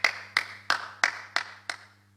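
Six sharp, evenly spaced claps ring out in a church congregation during a sermon, each crisp and bright, fading slightly toward the end over a low steady hum.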